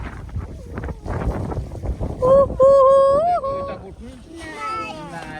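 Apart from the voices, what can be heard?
strong wind on a snowy roof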